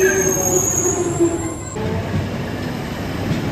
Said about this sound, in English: Now, we can't take this Jubilee line train behind us because it terminates here.